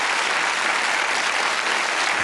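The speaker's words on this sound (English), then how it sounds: "Give them a round of applause." A TV game show studio audience applauds the contestants, a dense, steady wash of clapping at close range that holds evenly throughout with no talk over it.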